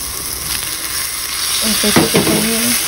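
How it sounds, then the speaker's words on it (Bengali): Broccoli sizzles and fries in a hot pan while being stirred, a steady close hiss with scraping stir strokes and a brief tonal squeak from the pan partway through. "চুলার হিট বাড়িয়ে দিতে হবে, এটা ভালো করে নাড়তে হবে"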